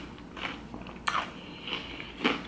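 Someone bites into an acai bowl, giving a few crisp crunchy bites and chewing sounds spaced over a couple of seconds, close up with no talking.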